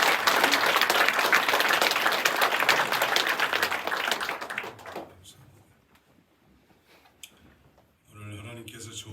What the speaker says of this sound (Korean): 우렁찬 격려의 박수 한번